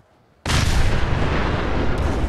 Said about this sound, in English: we're firing nuka grenades instead of pellets, so there's going to be a whole lot of these grenades going on there